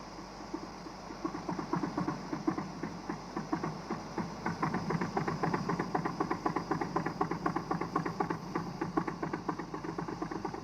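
A toy aeroplane's engine in a recorded children's story hums steadily for about ten seconds, with a rapid, even chugging pulse and a constant drone, moderately loud with no talk over it.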